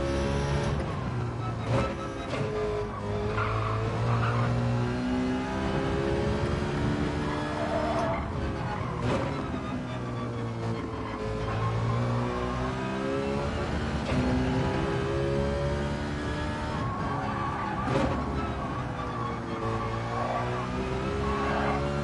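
A Mazda RX-Vision race car in Gran Turismo 7 at the Red Bull Ring, its engine howling steadily with rising and falling pitch sweeps as it shifts through gears, tires squealing now and then.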